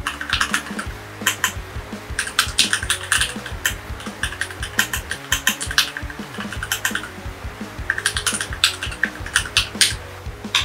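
Rapid typing on a Keychron K6/K8 mechanical keyboard, a dense run of crisp key clacks in bursts with brief pauses, close and steady throughout with no talking.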